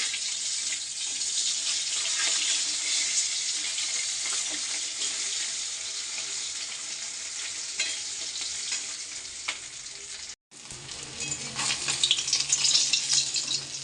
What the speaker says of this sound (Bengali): মাছটা মনে হচ্ছে ভাজা হয়ে গেছে